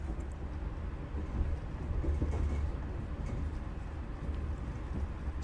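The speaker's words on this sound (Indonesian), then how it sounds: "Sekarang ini kereta api Taksaka melintas di stasiun Cikampek ya" The Taksaka passenger train rumbles past at Cikampek station, a low continuous roar with rattling wheel noise, fairly close and loud throughout.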